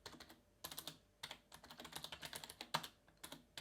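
Rapid typing on a Razer Ornata mecha-membrane keyboard, with clicky, cushioned keystrokes arriving in quick bursts and short pauses, close and fairly quiet, no voices.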